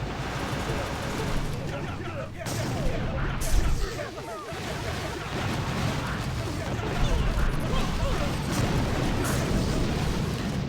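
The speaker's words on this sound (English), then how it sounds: "The rockets and shock launchers are proven to be quite useful themselves." Rockets and shock launchers in a tower defense video game fire in dense overlapping bursts and booms, continuous and busy, with a voice talking over the battle.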